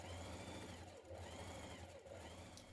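A sewing machine stitching the side seams of a blouse with a 1 centimetre seam, running in a close, steady whirring drone with two brief pauses in the motor.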